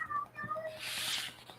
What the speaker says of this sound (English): Is someone's cat dying?